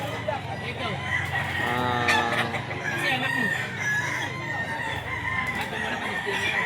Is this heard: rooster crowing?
yes